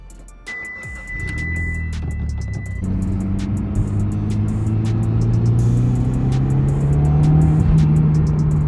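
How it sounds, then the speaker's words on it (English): A Mitsubishi Evo 10 engine idles, then revs up and drones steadily as the car pulls away, its pitch rising gradually, loud and close. "So we're actually gonna steal Jared's car, which is Bobby's old Evo 10, and it should be kind of fun."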